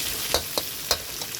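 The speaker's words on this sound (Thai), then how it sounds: "แล้วก็เอาหมูกับหน่อไม้เนี่ย ใส่ลงไป" Pork belly and bamboo shoots sizzle in a hot wok while a spatula scrapes and stirs them in a few quick, sharp strokes.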